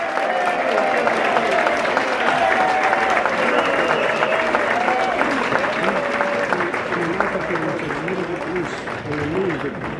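A crowd at a New York St. Patrick's Day parade event cheers and claps for Monsignor Sacano, dense continuous applause mixed with shouts and voices throughout.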